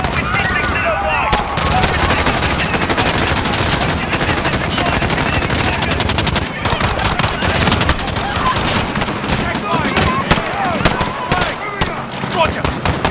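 Sustained machine gun fire from the Modern Warfare 2019 campaign, loud rapid bursts overlapping with other gunshots and shouted voices throughout a chaotic firefight.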